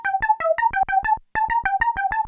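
A monophonic, heavily detuned synth tone with retriggered envelopes plays a fast, even run of short staccato notes, bright and up front, with one brief gap partway through.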